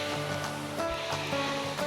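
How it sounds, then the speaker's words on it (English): Waves wash onto a lake beach at Port Burwell Provincial Park in Ontario, a brief, steady broadband surf rush mixed with a constant tonal hum. "The waves make it hard, don't they, buddy?"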